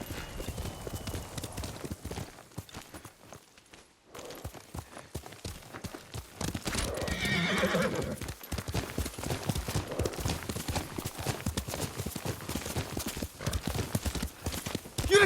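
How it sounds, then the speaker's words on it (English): A horse in the samurai game Ghost of Tsushima: steady clip-clop of hooves at a walk, close and rhythmic, with a brief neigh partway through and a short pause in the steps. "Yuriko's horse."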